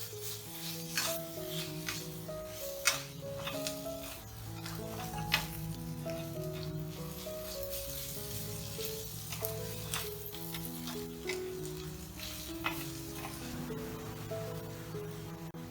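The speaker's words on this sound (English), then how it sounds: "Add 1 tablespoon ginger garlic paste and fry till the raw smell of ginger and garlic goes away." Ginger garlic paste frying in a pan with softened onions for egg kheema, a faint, steady sizzle with scattered crackles and a few sharp utensil clicks, while a low tonal background hum runs underneath.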